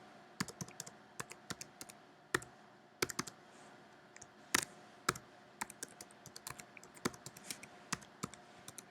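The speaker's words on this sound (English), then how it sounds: "you may type it in blogger.com and your URL" Someone types a web address on a computer keyboard, with quiet, irregular clicky keystrokes in short bursts and a few louder key presses throughout a quiet room.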